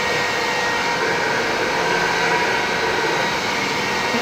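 A heat gun blows hot air while shaping a foam calla lily flower, giving a steady, loud broadband whoosh with a constant motor hum that runs unbroken from start to finish and has no talking over it.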